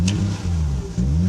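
A 2000 Toyota Crown Estate Athlete V, a USA import with a flashing airbag lamp, revs briefly at idle with a steady, loud engine drone that rises and dips once.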